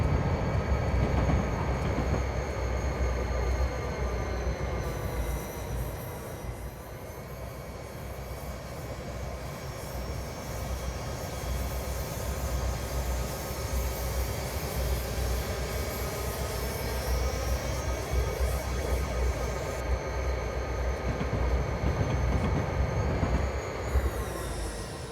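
Union Pacific DDA40X diesel locomotive in Train Simulator on Sherman Hill, throttled up and accelerating: a steady, loud engine drone with layered harmonic whine and rumble holding for the full stretch.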